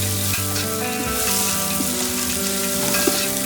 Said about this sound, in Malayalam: നന്നായി നമുക്കിത് ഇളക്കാം.